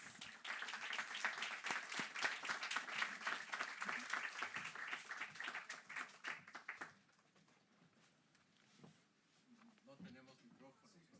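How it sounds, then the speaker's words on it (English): An audience at a book presentation in New York claps in a round of applause, a dense burst of many hands for about seven seconds before it fades out, with speaking voices underneath and afterward. "Let's welcome Cristobal Pera and David Unger with a round of applause."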